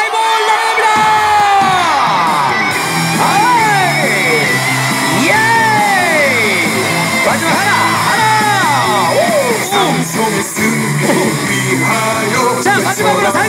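A stadium crowd of baseball fans at a Samsung Lions home game against Hanwha cheers and shouts loudly and continuously, with many overlapping yells and whoops, in a big open ballpark.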